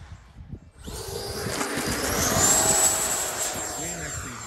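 An FMS Futura RC model sport jet flies past under power, its ducted-fan whine rising to a loud, high-pitched peak and then fading slightly as it moves through a turn outdoors.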